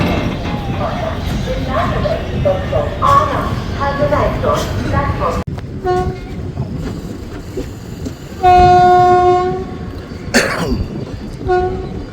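The 04311 Yog Nagari Rishikesh Special train stands at a station platform, its rumble and rail noise under nearby voices and a cough, with a long steady horn blast sounding late on.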